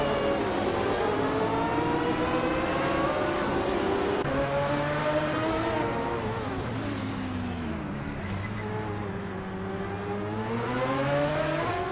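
A 1985 Ferrari 288 GTO engine in a racing video game, a steady loud drone with gear changes and rising and falling revs, continuous and close with no talk.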